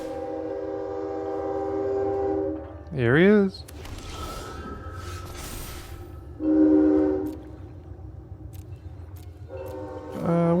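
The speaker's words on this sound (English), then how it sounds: "Here comes the train." A train horn sounds in three long, loud blasts with a rumbling rail pass underneath, someone talking briefly between the blasts.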